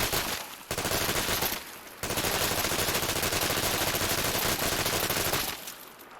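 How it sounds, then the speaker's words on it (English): The Infiltrator SMG in the video game Fallout 4 fires long, loud, continuous automatic bursts with brief pauses between them, close and dense, with no talking. "it also makes this thing spit out bullets"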